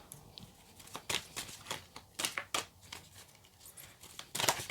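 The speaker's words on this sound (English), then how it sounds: "I cannot shuffle for the life of me today" Tarot cards being shuffled by hand give a series of soft, irregular riffling and slapping bursts, close and fairly quiet, with no talking.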